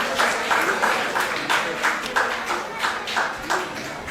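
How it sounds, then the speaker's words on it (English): Lively clapping at a children's competition award and graduation ceremony, with close, crisp hand claps falling into a loose pulsing rhythm for several seconds. "Please give her a big round of applause,"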